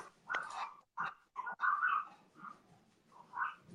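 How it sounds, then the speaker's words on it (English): Puppies whimpering and yipping with short barks, wanting to be let inside, heard up close in a series of uneven bursts with brief pauses between. "Is that your puppies?"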